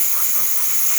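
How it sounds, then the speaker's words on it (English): Steady, loud steam hisses continuously from the steam wand of a freshly serviced Delonghi Magnifica espresso machine running at good pressure, with no break for the whole moment. "nice steady steam going after the machine, excellent pressure"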